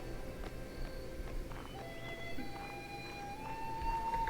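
Horse hooves clip-clop and a horse whinnies in a video game, faint and fairly distant under a busy bed of game ambience and sustained musical tones.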